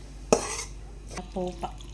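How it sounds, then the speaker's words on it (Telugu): Tempered curd rice being stirred with a little water, a sharp utensil clink on the pan followed by softer scraping and mixing sounds, close and fairly quiet. "పెరుగన్నం అంతా నీట్గా అలా కలుపుకుంటే"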